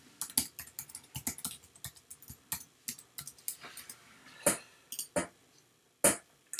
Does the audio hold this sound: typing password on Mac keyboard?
yes